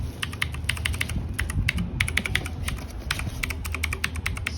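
Fast, crisp clicking comes from typing on a Cosmic Byte Artemis mechanical keyboard, with rapid, uneven bursts of keystrokes heard up close over a low background hum.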